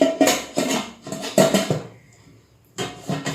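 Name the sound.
pressure cooker lid being closed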